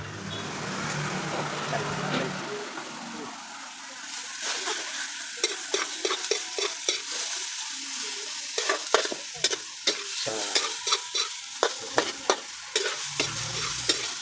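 Steady sizzle of string beans and squash stir-frying in a hot pan for adobong sitaw, with repeated scraping and clacking of a utensil stirring, a single spoken word early on.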